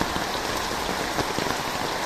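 Steady rain falls on a surface in the Philippine countryside, a dense, even hiss with scattered close droplet taps, constant and fairly loud with no voices.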